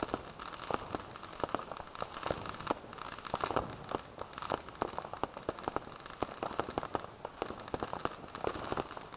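Fireworks display crackling continuously, with dense rapid bangs and pops layered over a hiss like falling rain, sustained for about nine seconds without speech.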